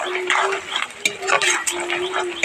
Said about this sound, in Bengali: এই যে পেঁয়াজটা এভাবে করে একটু ভেজে নিয়েছি